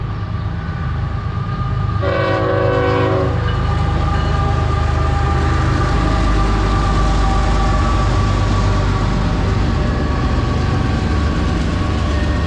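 Steady loud rumble of a train rolling past, with a brief horn blast early on, continuous throughout at close range.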